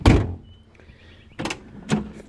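The door of a 1981 Mercedes-Benz 380SL shuts with a solid thud, followed by two further lighter knocks and clunks. All are close by, with quiet between them and no talking.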